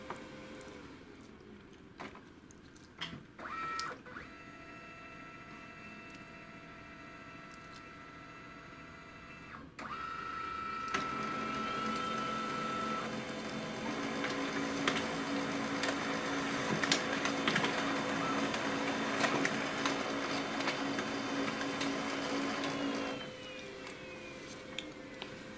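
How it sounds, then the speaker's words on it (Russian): A Brother DCP-7030R multifunction laser printer runs a two-copy job, clicking and whirring briefly before settling into a steady, close mechanical hum and drone for several seconds, then stopping. "Видим, принтер печатает маленько бледновато, но в целом работает."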